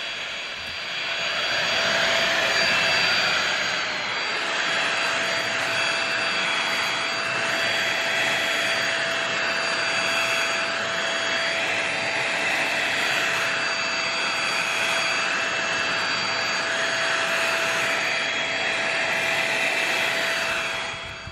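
A household vacuum cleaner runs steadily while cleaning up pet fur, a loud continuous whine with a constant high tone and slow cyclic swells, close by with no talking.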